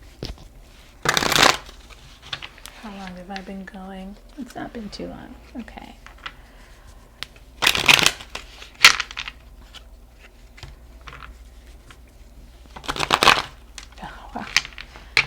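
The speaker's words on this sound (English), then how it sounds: "I'm going to pull out my Hermetic Tarot deck" A Hermetic Tarot deck is shuffled by hand in three loud, crisp riffling bursts spread across the clip, with quieter card handling between them and someone talking softly in the gaps.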